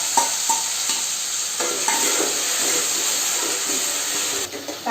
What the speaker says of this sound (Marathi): इथे आपलं कांदा चांगला फ्राय होतोय ना